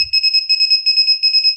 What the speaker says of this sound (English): I've actually set up a lost model alarm on this.